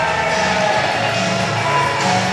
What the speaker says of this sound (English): Listen to this crowd going nuts for Big Dan Champion, though.